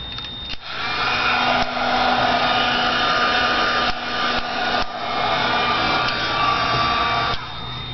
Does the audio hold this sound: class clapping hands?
no